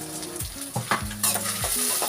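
Small shallots frying in oil with green chillies, stirred in a pan with a scraping utensil; short sizzling bursts and clinks, close up, with no talking.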